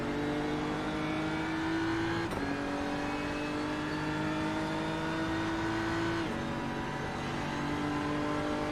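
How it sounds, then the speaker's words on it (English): A BMW race car in the iRacing sim at Hockenheimring drones steadily at high revs, with two sharp gear shifts breaking the tone before it climbs again, loud and close like an onboard view with no talking. "Get that engine noise."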